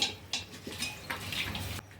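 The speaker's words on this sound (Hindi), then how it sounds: "सभी चीज़ों को मिक्स कर देंगे।" A spoon stirs and scrapes gravy ingredients with salt in a pot, a few soft clinks and scrapes spaced out and faint, with no talk.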